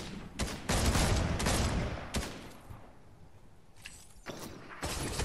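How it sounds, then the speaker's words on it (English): Bursts of gunfire from shooting enemies in a VR shooter game, several loud volleys and single shots in quick succession with brief quieter gaps between. "I'm just shooting the shit out of these guys."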